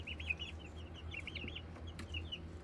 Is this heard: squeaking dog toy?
no